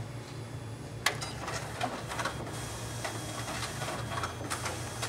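A Xerox WorkCentre copier feeding documents and stapling copies, a low steady mechanical hum under soft clicks and ticks, with a sharper snap near the start, close and fairly quiet.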